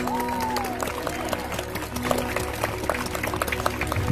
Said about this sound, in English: All right, let's give a big round of applause.